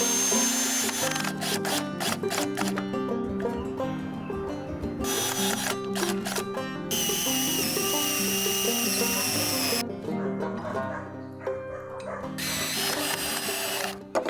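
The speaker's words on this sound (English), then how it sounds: "I decided I was going to have to pre-drill and screw in every single corner of this entire cabin" A power drill drives screws into wood while building a cabin on a trailer in Alaska, whirring in repeated short bursts with sharp mechanical clatter between runs, loud and close, with a few longer sustained runs.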